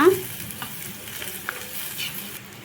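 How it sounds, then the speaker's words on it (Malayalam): A frying mixture with green chillies being stirred in a pan, giving a soft continuous sizzle with a few faint scrapes, brief and close. "നന്നായി ഇളക്കി കൊടുക്കുക"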